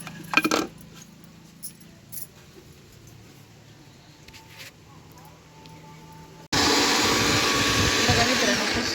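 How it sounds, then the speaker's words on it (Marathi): A kitchen mixer grinder grinding soaked wheat starts abruptly after some clinks and handling noises, then runs with a loud, steady whirring roar to the end. "अशा पद्धतीने हे आपण मिक्सरला बारीक करून घेतलेलं आहे"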